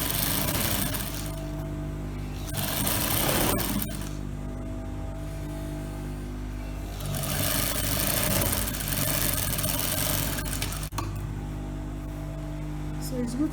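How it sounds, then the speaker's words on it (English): A sewing machine stitches a hem, its motor humming in steady mechanical bursts that start and stop, with quieter pauses in between and a faint constant background hum. "Exactly the same way I sew the hem of the other side. I'm going to sew this one too."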